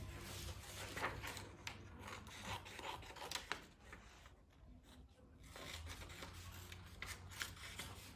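Scissors cutting a drawn paper ice cream cone shape for a children's craft, faint rasping snips and paper rustling close by, uneven and quiet.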